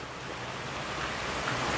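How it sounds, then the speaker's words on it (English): Heavy tropical rain pours down in a dense, steady roar, close and unbroken with no talking. "it's raining again, like it would be water poured out of buckets"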